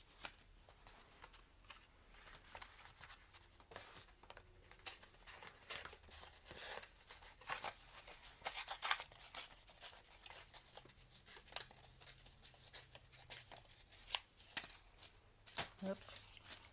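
Paper for a collage board is trimmed with scissors, giving irregular crisp snips and rustling handling noises, fairly close and quiet, amid soft page shuffling.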